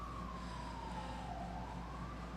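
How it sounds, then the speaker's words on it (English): Emergency vehicle sirens wail through a New York City street, one rising and falling tone sweeping slowly over a constant roar of traffic, somewhat distant and steady. "sorry about the alarms, the sirens"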